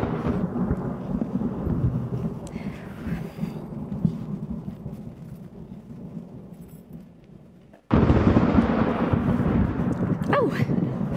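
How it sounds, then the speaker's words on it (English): A thunderstorm with rain, staged as a sound effect in a theatre production of The Sound of Music: a steady low rumble and rain hiss that fade, then a sudden louder crack of thunder and a renewed downpour. "You're not afraid of a thunderstorm, are you?"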